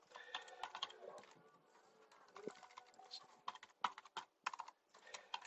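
A computer keyboard clatters in quick, uneven bursts of key presses while an email is typed, faint and close, with short pauses between the runs of keystrokes.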